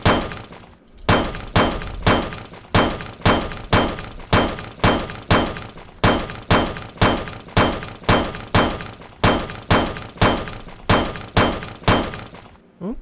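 Rhythmic pickaxe strikes on iron ore in the video game Elmlor, a sharp cracking, glassy impact repeating about every half second in a steady loop, loud and close with no talking.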